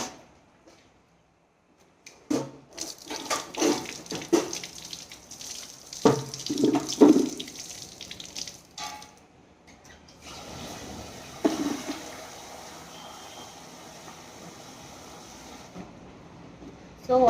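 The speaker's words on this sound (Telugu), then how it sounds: "పప్పుని బాగా వాష్ చేసుకోవాలి" Lentils (dal) are washed in water in a kitchen, with running and sloshing water and swishing bursts in the first half, then a softer steady trickle.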